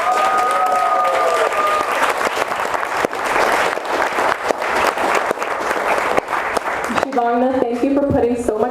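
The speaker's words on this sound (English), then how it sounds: "can I get a round of applause for our amazing MC and maid of honor" Wedding guests give loud, enthusiastic applause for the MC and maid of honor, dense clapping and crowd noise with cheers and a voice breaking through, then speech takes over near the end.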